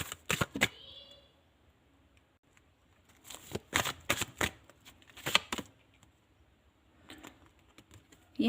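Tarot cards are shuffled in several quick, crisp bursts of riffling and flicking, close and fairly clear, separated by brief quiet pauses.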